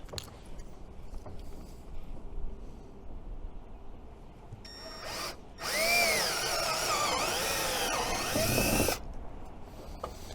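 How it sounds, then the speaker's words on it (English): Step drill cutting through plastic while fitting a steering console on a pontoon boat, whining loudly for about three seconds with a sharp grinding screech before stopping; quieter workshop noise comes before and after. "Step drills make very quick work of that plastic."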